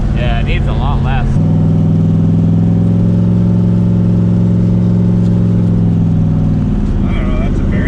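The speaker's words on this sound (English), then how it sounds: "that's a very noisy turbo all of a sudden." A non-stock Mustang with a turbocharged LS V8 swap roars at a sustained high rev with a strong steady drone and a noisy turbo, framed by brief bursts of talk at the start and end.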